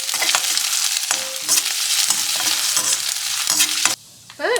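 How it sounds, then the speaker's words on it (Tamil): Mustard seeds, curry leaves, ginger, dried chillies and cashews frying in hot oil in a pan, a loud continuous sizzle with crackles and spoon stirring, then a brief dip before the sizzling returns. "கடுகு, கருவேப்பிலை, இஞ்சி, காஞ்ச மிளகா, முந்திரி, இது ரெண்டுமே நல்லா கோல்டன் ப்ரௌன் ஆகட்டும்"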